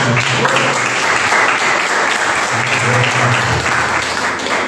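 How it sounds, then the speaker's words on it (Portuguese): A church congregation applauds loudly and steadily, a dense sustained wash of many hands clapping together with a faint voice briefly audible underneath. "Você pode aplaudir ao Senhor bem forte."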